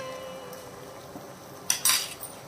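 A metal spoon scrapes and clinks against a cooking pot while whole spice mix is tipped in for Mumbai-style vada usal, a brief sharp rattle after a soft background hiss.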